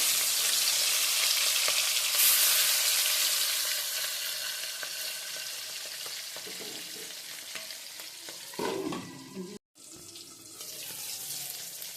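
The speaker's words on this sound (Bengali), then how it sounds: "এক এক করে সব মাছগুলো আমি ভেজে নিলাম" Continuous hissing sizzle of katla fish frying in oil, loud and close, with a clatter and a brief cut near the end.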